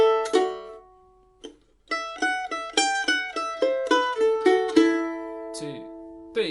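Plucked mandolin playing paired two-note double stops in a 12-bar blues, a run of bright picked chords in a steady rhythm, close and clear with ringing sustain.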